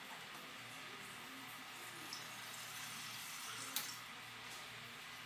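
Water pours steadily into a jar, a soft continuous rushing and trickling that stays faint and even from start to finish, with no voices.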